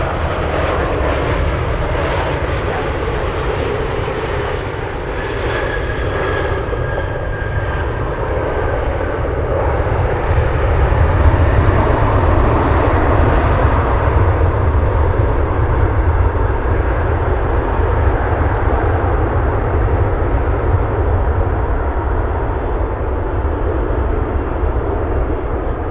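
A Boeing 747 Dreamlifter or similar airliner takes off from runway 25 left at Anchorage, its engines a loud, steady broadband roar that swells slightly midway and holds close and continuous throughout.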